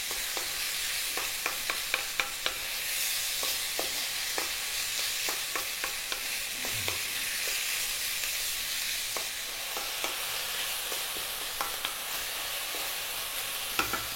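Thin-cut boneless, skinless chicken breast stir-fries at maximum heat, a steady loud sizzle running throughout, punctuated by frequent sharp clicks and taps as the pan is stirred and kept moving, with no voices.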